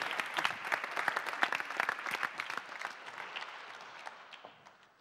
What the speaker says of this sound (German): Daher einen herzlichen Applaus, bitteschön